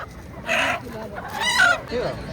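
A rooster clucks and calls in a few short bursts close by, with faint voices murmuring in the background.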